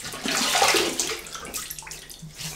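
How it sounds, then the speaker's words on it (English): Water splashed onto the face before a wet shave at a sink, a close, steady splashing and trickling that fades into scattered drips. "Right, let's wet the face."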